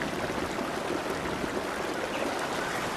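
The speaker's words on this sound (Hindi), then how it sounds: "जैसे ही दोनों बाहर आ गई, घोंसला बाढ़ की पानी में बह गया।" Cartoon flood water rushes and churns in a continuous, steady flow that carries a bird's mud nest away, loud and even with no talking.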